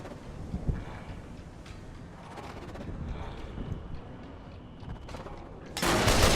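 Gunfire in Fallout New Vegas plays against a busy, rumbling game battle: a few scattered shots ring out early, then a loud, dense burst of fire closes the moment.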